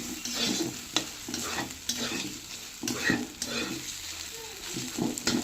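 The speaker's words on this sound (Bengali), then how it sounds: "এখন গ্যাসের ফ্লেমটা আস্তে দিয়ে রেখেছি যাতে মশলাটা পুড়ে না যায় আস্তে আস্তে যাতে কষা হয় মশলাটা" Masala spice paste fries over a low gas flame while a spoon stirs it in the pan, a steady soft sizzle broken by repeated scraping strokes, close up and without speech.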